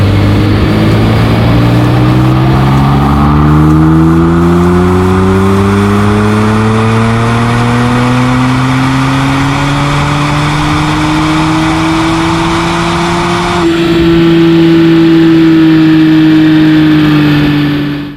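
A Porsche 997.2 Turbo S on a dyno makes one long, loud, close wide-open-throttle pull, its engine note climbing steadily in pitch before leveling off and cutting out at the end.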